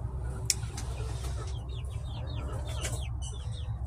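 Hens cluck and chirp softly inside a winterized chicken coop, a series of short high calls over a steady low hum, close but fairly quiet, with a few sharp knocks.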